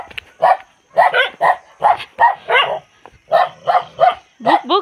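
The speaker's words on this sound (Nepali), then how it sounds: "यिनीहरू यो यति डरलाग्दो भोक्छ, यति डरलाग्दो भोक्छ यिनीहरू" Several dogs bark fiercely and loudly at close range in a rapid run of repeated sharp barks, with short gaps between bursts and a whining yip at the end.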